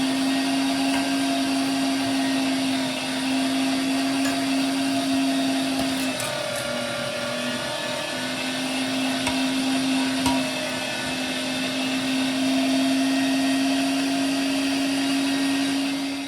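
Meat grinder grinding venison at home runs as a loud, steady motor whine with a constant drone throughout, close by, with no voices over it.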